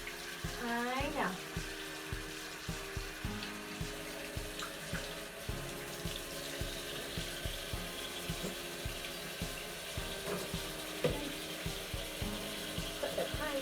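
Tap water runs steadily into a sink or tub while a kitten is bathed, with a continuous splashing stream, repeated small knocks and handling noises, and a voice talking softly in places.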